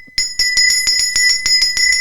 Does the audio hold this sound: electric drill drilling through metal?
no